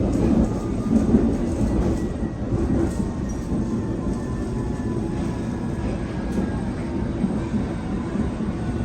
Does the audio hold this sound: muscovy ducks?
no